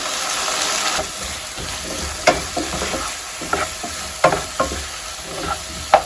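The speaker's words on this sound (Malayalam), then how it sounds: "ആദ്യം 1/2 ടീസ്പൂൺ മഞ്ഞൾപ്പൊടി ഇട്ട് കൊടുക്കാം, ഒന്ന് വഴറ്റി കൊടുക്കാം" Turmeric and chili powder being sautéed in a pan for a Trivandrum sadya vada koottu curry: a steady sizzle and frying hiss, with sharp scraping knocks of a spoon stirring against the pan at irregular intervals.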